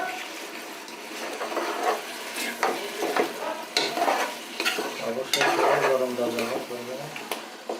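Mutton being stirred in a pan with cooking oil and a splash of water, giving repeated scraping and sloshing strokes with a soft sizzle underneath, close and fairly loud.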